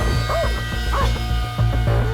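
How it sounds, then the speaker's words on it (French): An over-excited pet dog gives a quick run of high yips and barks, close by, over a steady low hum and broadband background. "lorsque le chien de Dean et Lisa s'excite trop, Nancy est sur le qui-vive."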